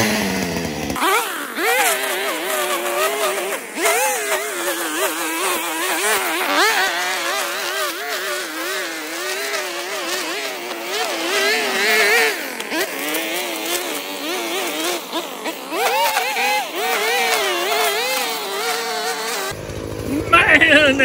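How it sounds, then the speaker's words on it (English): A new STIHL string trimmer whips weeds along a concrete edge in a yard, its small two-stroke engine buzzing loud and close with constant revving and wavering pitch throughout. "Let's give the weed eater a go."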